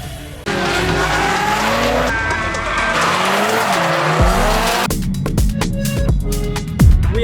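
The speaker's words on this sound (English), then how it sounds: "There is a drift event for car modified Honda." Modified Honda cars drift at a circuit event, engines revving hard with long tire squeals and skids, loud and close, shifting as cars slide past.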